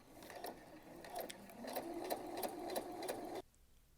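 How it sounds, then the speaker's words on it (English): A sewing machine runs a long basting stitch through dress fabric with a soft, rhythmic mechanical clatter of evenly spaced stitches, then stops abruptly just before the end. "Your basting stitch is going to be the largest stitch on your machine."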